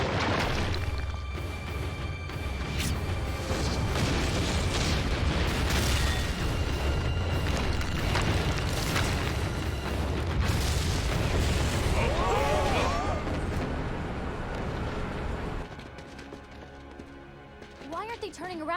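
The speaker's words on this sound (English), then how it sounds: "I think we're about to see some bombs." Animated bombs explode in an Avatar the Last Airbender battle, with heavy booms and rumbling blasts filling the scene at high volume, mixed with voices and music throughout.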